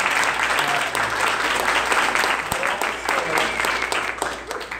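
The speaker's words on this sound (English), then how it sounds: "if we could just give them a really big round of applause" A conference crowd at a YIMBYtown morning keynote gives the volunteers a big, steady round of applause that holds loud and even throughout, with faint voices mixed in.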